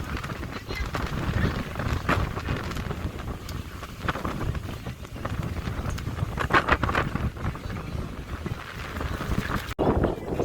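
Strong wind on Sal island, Cape Verde, roars and buffets the microphone in a continuous low rumble with gusty surges, loud and close throughout.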